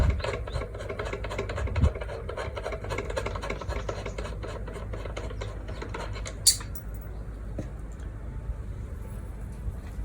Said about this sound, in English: Let's get this bolt out fully.